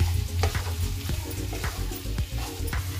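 Chicken keema fries in a pan, a dense sizzle with a low rumble beneath and rhythmic spoon scrapes and taps recurring about every half second, close and fairly loud.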